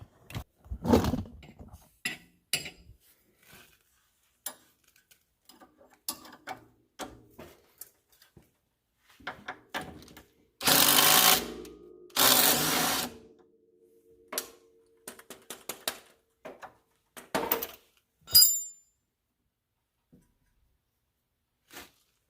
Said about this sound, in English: Again, I'll be using my impact to take this side off.